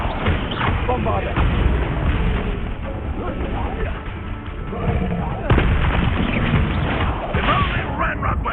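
Explosions from the Bombarda blasting spell in Hogwarts Legacy, heavy booming blasts layered through dense combat noise, loud and continuous with a sharp burst around 5.5 seconds, under a shouting voice.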